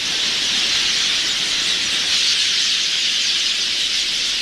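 A vast flock of Quelea birds, numbering in the millions, pours out a continuous, loud, shrill wash of massed chirping and squealing, unbroken and even throughout with no voices over it.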